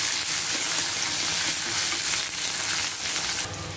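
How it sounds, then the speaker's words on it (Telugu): Onion pieces with a few curry leaves frying lightly in a pan, a steady, close, even sizzling hiss that carries on without pause for several seconds and softens slightly at the end, with no talk. "ఈ ఉల్లిపాయ ముక్కల్ని లైట్గా ఫ్రై అవ్వనివ్వాలి"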